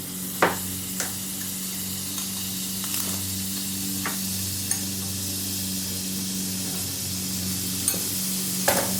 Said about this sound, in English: Simmering them at first like this will help soften the casing